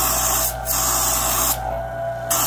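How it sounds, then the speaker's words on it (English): A Vevor two-stage high-flow vacuum pump sucking air, a steady loud broadband hiss over a low motor hum, briefly dipping twice as the airflow changes, close with no voices. "A lot of air noise you're hearing is just the suction of the air."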